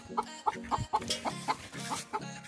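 A Kadaknath chicken gives a quick run of close, repeated clucks, about eight sharp pulses in a steady rhythm, with no talk over them.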